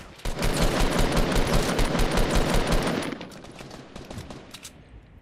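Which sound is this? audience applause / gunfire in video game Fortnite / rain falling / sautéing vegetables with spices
gunfire in video game Fortnite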